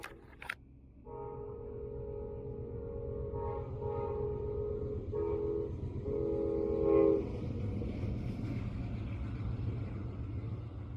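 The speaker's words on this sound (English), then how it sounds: "Here's Amtrak Train 97, the Silver Meteor, passing the underpass." Amtrak Train 97, the Silver Meteor, sounds several long horn blasts in a rhythmic sequence while passing an underpass at SunRail construction in DeLand, with a low rumbling of rolling wagons underneath that continues after the horn stops.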